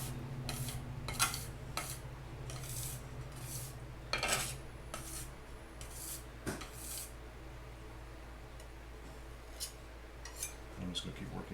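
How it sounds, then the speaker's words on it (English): A palette knife mixes and scrapes medieval gesso on a hard surface, making a run of short, bright scraping strokes in irregular bursts over a low steady hum, fairly close and without speech. "you can use a palette knife, some sort of scraper, mix it back up into the middle again."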